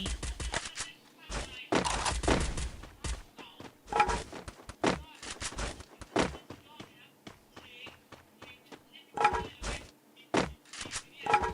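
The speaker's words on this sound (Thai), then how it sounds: "มันยิงกันแล้วครับ" Video game gunfire crackles in sharp bursts and single shots, some close and loud, others distant, scattered irregularly among thuds and footsteps with a voice talking intermittently.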